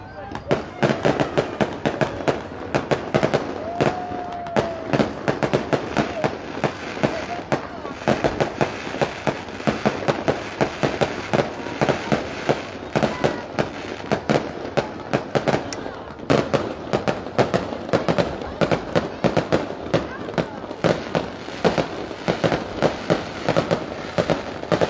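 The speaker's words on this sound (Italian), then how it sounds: "Il primo sparo prelude ai fuochi veri e propri" Fireworks crackle and bang continuously at an Italian fish festival display, a dense barrage of sharp pops and bursts, fairly close and loud throughout.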